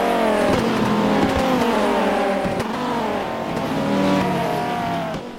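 Race cars in the rFactor Viper Cup series, engines revving loudly and steadily with rising and falling pitch as they run side by side through a turn, with brief tyre squeal.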